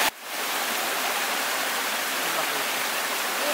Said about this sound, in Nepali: मुहान गुफाबाटै निस्केको पानी हो।